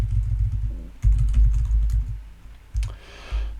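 Code is typed on a computer keyboard in short close bursts of clacking keys, separated by brief pauses, with no talking.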